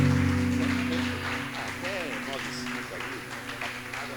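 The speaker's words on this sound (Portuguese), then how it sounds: "aplaudindo bem forte o Senhor Jesus" Church congregation applauding the Lord during a Quadrangular service, a broad wash of clapping under steady voices and a sustained musical tone, fairly loud throughout.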